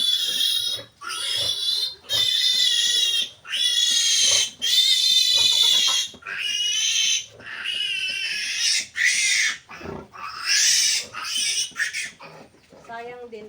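Several three-day-old piglets getting iron injections on a small farm squeal loudly and shrilly in long, repeated bursts with brief pauses between them, close to the microphone and continuous throughout.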